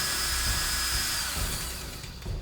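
A drill sound effect, a steady whirring, whining drone with a high tonal edge that holds for a couple of seconds and dips slightly near the end.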